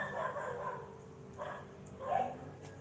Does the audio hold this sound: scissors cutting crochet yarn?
no